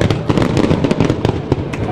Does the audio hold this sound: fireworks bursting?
yes